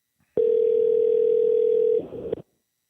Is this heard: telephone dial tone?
yes